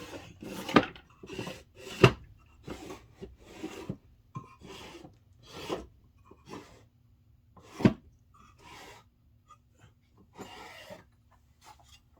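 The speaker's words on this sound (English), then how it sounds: "I've got an old hand drill." An old hand drill grinds and scrapes while drilling out the gun barrels of Warhammer 40k ork miniatures, in short irregular bursts separated by pauses, close up and fairly quiet, with no talking.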